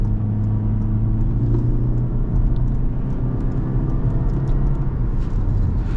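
A Toyota C-HR 1.8 hybrid pulls away from Pendik with a steady low engine rumble and road hum, continuous and fairly loud from inside the cabin, with no voices.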